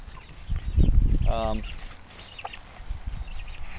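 Soft clucking from a few chickens, fairly close, with a brief harmonic call standing out amid low rustling and background noise.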